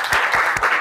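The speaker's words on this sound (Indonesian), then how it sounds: "Tepuk tangan dulu semua." Classroom applause as students clap together after a group presentation, a dense, steady patter that fills the room from start to finish.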